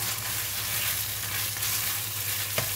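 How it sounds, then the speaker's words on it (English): Kaffir lime leaves stir-fried in red curry paste, a steady bright sizzle with occasional stirring, near and unbroken, no voices. "In the kaffir lime leaves, just stir fry until it releases a very nice fragrance."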